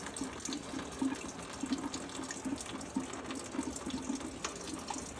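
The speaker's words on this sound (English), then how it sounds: "Got another leak to fix." Water runs from a leak in a Cobra, a steady, faint trickling splash that continues without a break.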